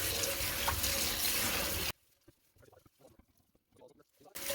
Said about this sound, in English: take my little steel wool scrubby, put a little soap on it, and hot water, just clean it all off